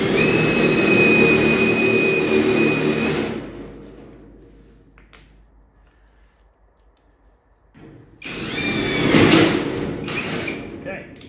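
A power drill bores holes in metal parts for a 60 gallon air tank, whining loudly for a few seconds, falling silent, then starting again with a grinding bite into the metal.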